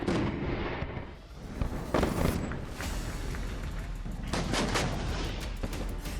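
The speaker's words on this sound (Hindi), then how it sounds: "कैमरे वाले धमाकों की प्रैक्टिस करनी पड़ी" Explosions and artillery-style blasts during a Pakistani army war exercise, a dense, continuous roar of booms and rumbling with sharper reports on top, loud and sustained throughout.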